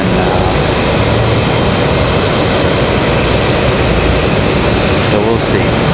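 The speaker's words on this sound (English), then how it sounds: "Let you guys enjoy some of the planes here" Aircraft engines roar loudly and steadily at Raleigh Durham International Airport, a broad, constant jet rumble that fills the whole stretch, close and heavy throughout.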